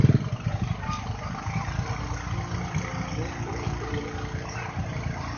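A motorcycle engine runs at steady mid-pitch with uneven revving and clatter, fairly close and moderately loud, mixed with outdoor background noise.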